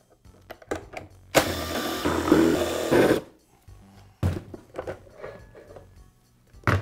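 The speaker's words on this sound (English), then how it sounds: "Now remove the motor cover." The motor cover comes off a Porter Cable air compressor during a switch repair: a sharp plastic scrape lasting about two seconds, then scattered close clicks and knocks of the housing being handled, with no talking.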